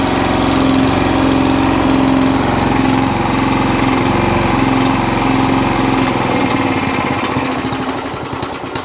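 A Qualcast 35S cylinder lawn mower engine with a fuel problem idles roughly and unevenly, a loud, close, continuous putter that wavers and begins to fade near the end.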